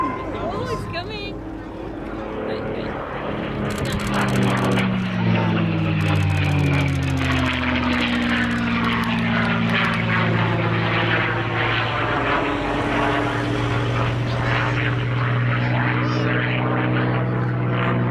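Propeller-driven P-51 Mustang roars past at an airshow, its engine drone swelling and sweeping lower in pitch as it flies by, loud and sustained, with a commentator's voice running underneath.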